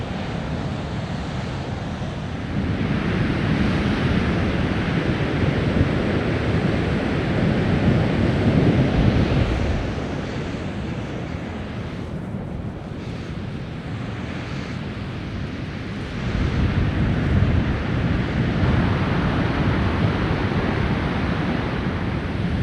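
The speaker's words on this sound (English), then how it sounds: "it's a beautiful beach." Ocean surf rolls and breaks steadily on Centerville Beach near Ferndale after the king tides, a loud, continuous wash swelling in two heavier surges, with wind buffeting the microphone throughout.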